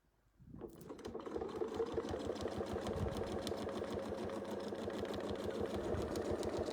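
A domestic sewing machine doing free stitching starts up after a brief quiet moment and runs steadily and loudly, a fast, even mechanical whir of needle strokes close by.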